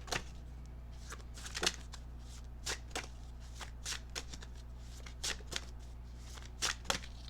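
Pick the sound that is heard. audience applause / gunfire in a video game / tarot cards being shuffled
tarot cards being shuffled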